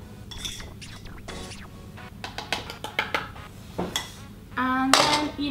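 Red velvet cupcake batter being mixed in a bowl, with a run of close clinks and taps of a utensil against the bowl, uneven scraping strokes and a louder clatter near the end.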